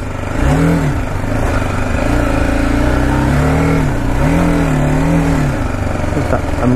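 A BMW G310 GS motorcycle rides in first gear at an event, its engine revving up and easing off in repeated swells, loud and close, with little else heard.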